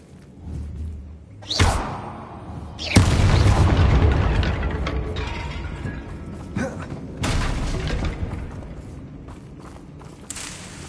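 Hogwarts Legacy gameplay has the Incendio fire spell cast in a fight against Ranrock loyalists, with loud whooshing bursts and booming impacts in a chaotic, layered battle mix, one heavy blast at about three seconds.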